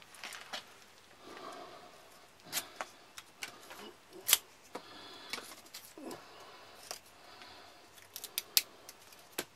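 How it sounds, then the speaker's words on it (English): A blade cuts a notch into a small wooden board for a flap mouse trap, giving scattered sharp snips and clicks spread irregularly over several seconds, close and fairly quiet. "And you want to cut a notch into this one."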